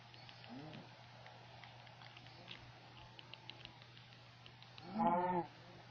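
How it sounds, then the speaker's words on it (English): A cow in the Minecraft video game moos once near the end, a short clear low call over a quiet background with a faint steady hum and occasional light taps. "Just a random cow outside the enclosure."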